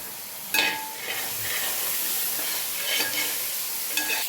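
Ginger, green chilli and garlic paste fries with sautéed onions for a beef curry, giving a loud, close, steady sizzle with occasional stirring scrapes and no talking.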